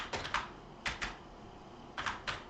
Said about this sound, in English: So we're actually going to type in the location